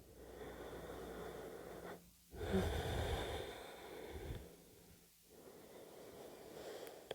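Deep breaths during a morning breathing exercise: slow, audible inhales and exhales close by, two long breath cycles separated by brief pauses.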